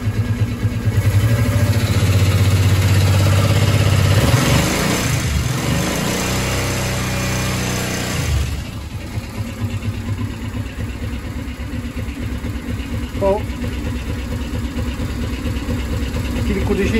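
A Suzuki VL 800 Volusia motorcycle with a low-rpm power problem idles close by, its steady engine rumble holding across the whole stretch, briefly louder and rougher in the first half before settling.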